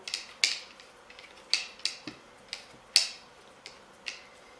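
A Fuji mini tripod being screwed onto the base of a Nikon D5500 camera gives about nine sharp, close clicks and ticks at an uneven pace, with no talking.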